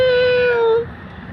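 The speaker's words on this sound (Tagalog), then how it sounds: "Ang dami pong mga pusa dito." A single cat gives one clear, close, drawn-out meow that fades after less than a second, among many cats being fed.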